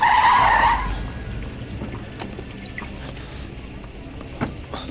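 A car pulls away with a brief loud tire screech at the start, then settles into a fainter, steady rolling rumble as it drives off.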